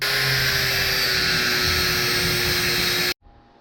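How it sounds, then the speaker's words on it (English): An angle grinder fitted with a flap disc sands an aluminum piece, producing a loud, continuous high whine close up for about three seconds before cutting off abruptly into near silence. "So I'm just going to take a flap disc and just sort of sand it down there."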